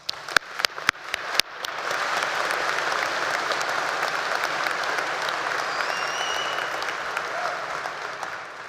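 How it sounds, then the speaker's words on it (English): A commencement crowd at a spring college of education ceremony breaks into a round of applause, a few loud, close claps at first, then a broad sustained clapping from the room that holds steady, with no talking. "Please join me in congratulating them with a round of applause."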